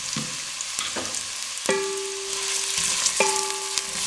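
Two large finely chopped onions fry in hot cooking oil, a close, steady hiss of sizzling with sharp clinks of a spoon against the pan as they are stirred.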